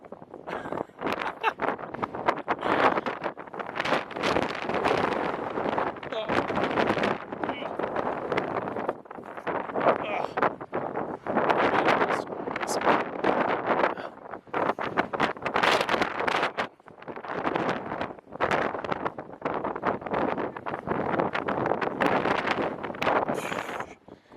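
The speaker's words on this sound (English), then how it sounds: "I haven't felt wind like this in ages." Strong gusting wind on the slopes of Mount Vesuvius batters the microphone in loud, roaring buffets that swell and drop in waves, with brief lulls between gusts.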